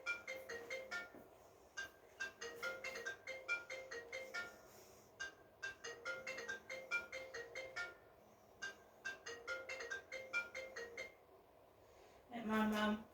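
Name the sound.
telephone ringing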